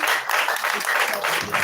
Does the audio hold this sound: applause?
yes